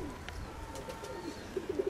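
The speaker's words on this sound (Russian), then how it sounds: "А мои-то голуби не садятся." Domestic pigeons coo softly from a short distance, a few low rounded calls coming near the end over steady outdoor background noise.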